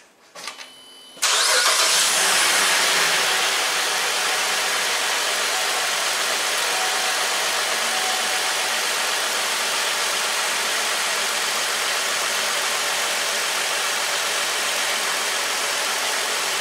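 A car engine cranks briefly, catches with a loud surge, then settles into a steady idle that runs on evenly, close by, during a test of its PCV system.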